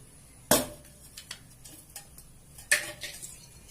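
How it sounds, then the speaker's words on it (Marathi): A kadhai is set down on a gas stove before oil is added for tempering Khandeshi bharit. Two sharp metallic clanks ring out about two seconds apart, with light ticking handling sounds between them. "आता कढई ठेवलेली आहे गॅसवर तेल टाकतोय"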